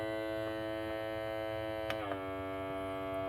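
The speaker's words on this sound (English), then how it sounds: "So turn the machine on there, and then eventually the smoke will start coming out." A smoke machine used for automotive vacuum-leak testing on a Pontiac G5 or Chevy Cobalt runs with a steady electrical hum and buzz, its pitch shifting slightly partway through, with faint clicks.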